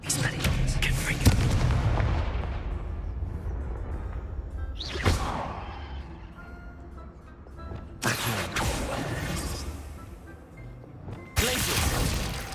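Spell combat in the Hogwarts Legacy video game, with rumbling blasts, booming explosions and whooshing casts in quick succession, several sharp bursts standing out over a dense, churning battle din.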